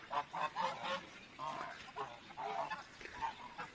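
Geese on a farm honk in a rapid run of nasal calls, several overlapping bursts at moderate distance, fairly faint and without speech.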